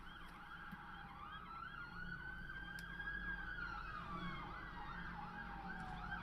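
A police car siren wails steadily in a neighborhood, its repeating up-and-down tone heard at a moderate distance and held for several seconds with no voices.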